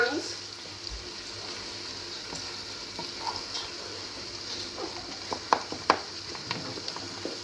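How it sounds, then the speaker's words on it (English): Hands being washed at a kitchen sink while a pan is stirred: a steady hiss of running tap water fills the background, broken by light clinks and scrapes of a spoon in the pan, close and moderate in level. "I'm just washing my hands whilst I'm stirring the pan"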